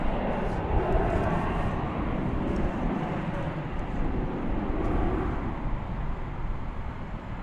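Dense, steady roar of jet engines from a line of American Airlines and American Eagle planes queued for takeoff at DFW Airport at night, a broad continuous rumble heard from a distance with no talk.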